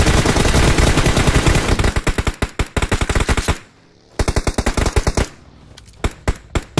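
Dense bursts of automatic gunfire from PUBG Mobile during a competitive PMPL 2022 Türkiye match, loud rapid volleys with a brief lull midway, then more sustained fire followed by scattered single shots.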